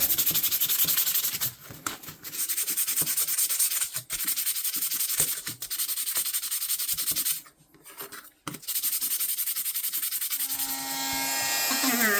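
Rusty fishing knives being rubbed clean by hand, a steady abrasive scrubbing that runs in close, continuous strokes with a few brief pauses and no talk.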